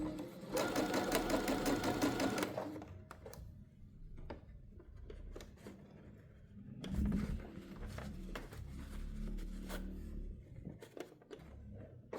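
A sewing machine stitches the seam of a fabric bucket hat, a loud rapid mechanical run that stops, then resumes in shorter bursts mixed with handling clicks and taps, close up.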